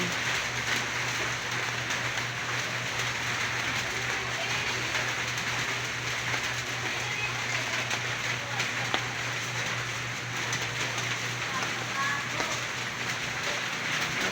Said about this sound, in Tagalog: umulan na may sikat naman ng araw